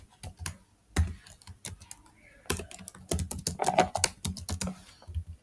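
Code being typed on a computer keyboard, close and crisp, with irregular bursts of key clicks separated by short pauses and no voices.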